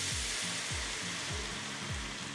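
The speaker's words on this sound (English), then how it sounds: "I'm gonna add some white wine." White wine poured into a hot, oil-coated pan, hissing and sizzling loudly and steadily, with a few soft rhythmic stirring or scraping strokes underneath.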